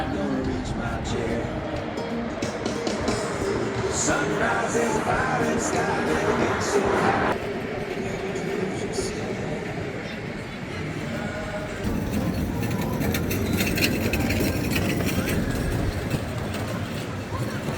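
A ride on the Gatekeeper roller coaster at Cedar Point, taken from the front row, gives a loud continuous roar of wheels on track and rushing wind that runs the whole time, with voices mixed in.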